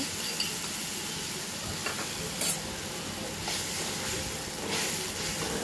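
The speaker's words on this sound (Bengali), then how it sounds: "মশলাটা যেটা রেখেছিলাম ওটাই দিয়ে দিলাম তেলের মধ্যে। ভালো করে ওটাকে কষিয়ে নেব।" Panch phoron spice mix fries in hot oil, giving a soft, continuous sizzle with a few light stirring scrapes and no talking.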